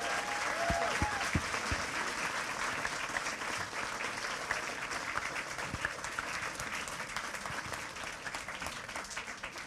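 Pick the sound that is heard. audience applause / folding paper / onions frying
audience applause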